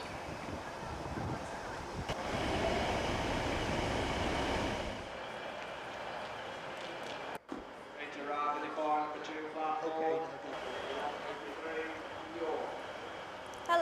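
Train running on the reopened Colne to Skipton railway line: a steady rumbling roar with wind buffeting at first, then a quieter stretch with voices talking over the rolling noise.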